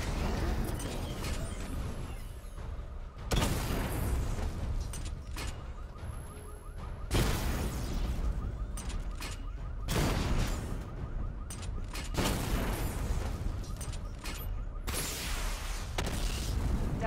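Missile barrage explosions from a Batman video game, a series of heavy booming blasts arriving in bursts roughly every few seconds over a continuous loud rumble, with brief game voice lines in between.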